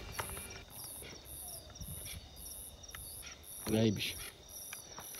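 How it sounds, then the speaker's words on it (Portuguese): Crickets chirp in a steady pulsing rhythm at night near a clandestine cemetery, with a short spoken greeting and some rustling partway through. "Só o barulho dos grilos."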